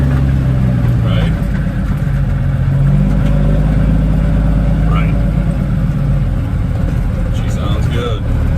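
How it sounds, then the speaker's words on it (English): A Ford L9000 truck with 6-inch stacks, hauling a loaded trailer, drones loud and steady at cruising speed with a low, continuous engine rumble, and a voice speaks over it. "you get to listen to the truck a little bit"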